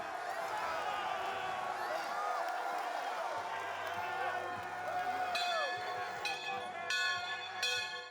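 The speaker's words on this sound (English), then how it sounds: "And it's time to ring that bell." A victory bell clangs several times near the end over a loud, distant crowd roar and cheering at a football game in Chapel Hill, with an announcer-like voice faintly beneath.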